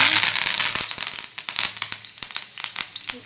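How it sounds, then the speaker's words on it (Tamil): Curry leaves crackle and sputter in hot oil in a pan before fish is fried, a close burst of dense sizzling that breaks into sharp irregular pops and fades. "ஃபர்ஸ்ட் கருவேப்பிலை போட்டு பார்த்துக்கலாம் ஹீட் ஆயிருக்கான்னு"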